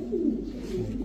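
A tiger racer pigeon coos close by in a short, low, throaty burble that rises and falls over a steady background hum, with no voices.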